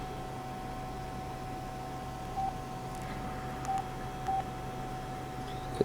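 BlackBerry phone keypad tones beep three times, short evenly pitched dialing blips spaced a second or so apart over a quiet background hiss, with a faint click at the end.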